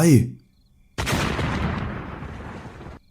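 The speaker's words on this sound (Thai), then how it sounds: "เสียงกำปนาดแผดลั่นของระเบิดลูกเกี้ยง ดังสนั่นจนป่าทั้งป่าแตกระงม" A sudden loud blast erupts after a short sharp sound, followed by a roaring, rumbling tail that cuts off abruptly.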